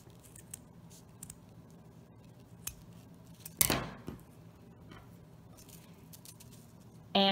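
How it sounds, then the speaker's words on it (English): Scissors snip once through hair-bow ribbon on a diagonal, a single brief close crisp cut in an otherwise quiet room, followed by a soft clatter near the end. "now I'm just going to cut on a diagonal"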